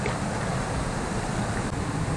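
Hogenakkal Falls in Tamil Nadu, a constant broadband roar of rushing, crashing water with wind buffeting the microphone, loud and close, no voices.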